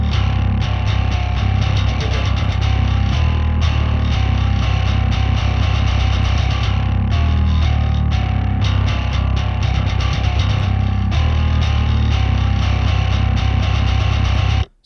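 A bass guitar played through a drive and distortion pedal gives a thick, gritty, aggressive tone, with continuous loud riffing and steady low-end chugging that cuts off abruptly at the end.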